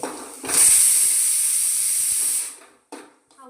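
Capsicum frying in a pan for capsicum baji, a loud steady sizzling hiss that starts abruptly and holds for about two seconds, then fades, followed by faint brief sounds.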